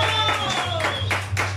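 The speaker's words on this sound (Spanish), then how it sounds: "Aplauso nuevamente, por favor." Brief scattered clapping from an audience at a quinceañera mariachi show, a few sharp hand claps in a short burst over a steady low background hum.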